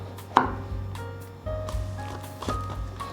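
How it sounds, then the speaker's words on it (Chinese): A knife slices king oyster mushrooms on a cutting board, giving a few soft, close, moist thuds and cuts spaced irregularly, with faint squeaky tonal scraping between them. "准备调杏鲍菇，把杏鲍菇切片"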